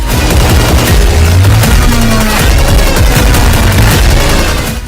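Loud, continuous gunfire and heavy booms roll together into a dense, chaotic barrage that never lets up.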